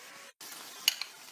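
Keema cooked with whole spices and yogurt frying over full heat in a pan, a soft steady sizzle with a brief dropout and a couple of light clinks of a utensil against the pan.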